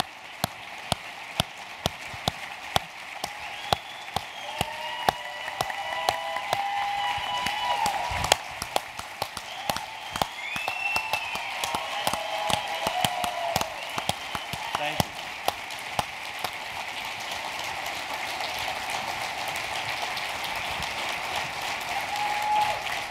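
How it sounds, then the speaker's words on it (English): Scattered, fairly faint applause from a keynote audience at a NEXT 2016 event, with irregular individual claps crackling like rain over a steady low hum. "Thank you guys for the applause."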